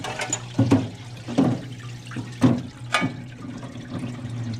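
Running water from a parts washer while brake parts from a Honda Odyssey rear brake job are rinsed, a steady splashing flow with intermittent louder gushes and clatters as pieces are moved under the stream.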